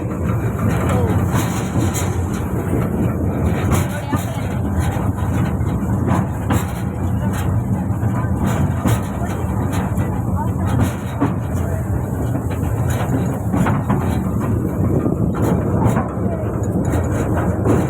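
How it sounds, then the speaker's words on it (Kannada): Steady rumble and rattling of a train rolling along rails, loud and continuous, with faint clicking from the wheels throughout. "ಟ್ರೈನು ಇಡೀ ಪಾರ್ಕನ್ನೇ ತಾಕೊಂಡ್ಬರುತ್ತೆ"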